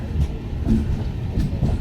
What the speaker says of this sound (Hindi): तो जी अब हमारा अराइवल हो रहा है औड़िहार जंक्शन रेलवे स्टेशन पे इस घने कोहरे में।